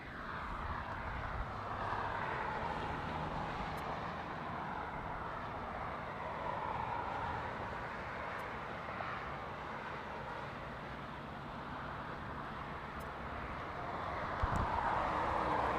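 A passenger airplane taxis at LAX, a steady broad engine rumble and whine holding for about sixteen seconds at moderate distance, swelling slightly near the end, with no talk over it.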